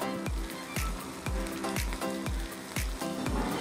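Bottle gourd dosa fries in oil on a pan, giving a steady sizzle broken by regular, evenly spaced ticking pulses, with no one talking.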